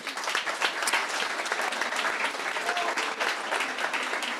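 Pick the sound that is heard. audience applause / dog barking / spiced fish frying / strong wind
audience applause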